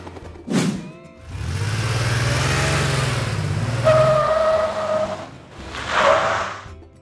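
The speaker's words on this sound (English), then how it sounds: "Police car." A police car engine rumbles and revs with a brief tire squeal, a steady tone sounds near the end, then another short burst.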